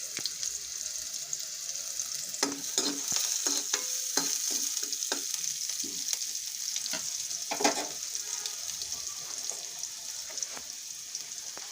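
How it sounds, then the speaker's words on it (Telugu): Finely chopped onions frying in a pan for chicken curry, giving a steady bright hiss with scattered pops and crackles and a few scraping stirs, close and without voices. "ఉల్లిపాయలు సన్నగా తరిగిన ఉల్లిపాయలు వేసి వేయించాలి"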